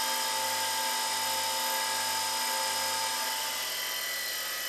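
A bench grinder sharpens a woodturning bowl gouge in a fingernail jig, producing a steady, close, high-pitched motor whine with a low pulsing hum underneath.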